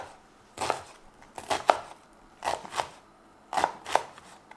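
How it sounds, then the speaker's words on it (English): Onions being chopped with a very sharp knife for a vegetable lasagna, heard as four short bursts of quick crisp blade strokes against a board, close and fairly clear with quiet gaps between. "We're going to cut the onions."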